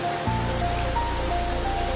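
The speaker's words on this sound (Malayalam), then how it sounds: "മഴ നോക്കി നിൽക്കാൻ ഞങ്ങൾക്ക് മഴ നല്ല ഇഷ്ടം" Steady rain pours down in a broad, even hiss with a low rumble beneath, constant and close, with no voices over it.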